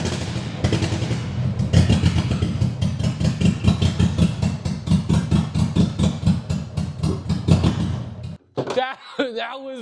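A Volkswagen five-cylinder engine in a pro drift car runs rough on three cylinders, thumping loudly in uneven, stumbling pulses for about eight seconds before cutting out abruptly, after which a voice speaks.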